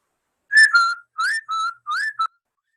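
An offstage whistle in a Romeo and Juliet scene: five clear whistled notes, the first gliding, the next three steady, the last a short clipped chirp, heard alone and fairly close.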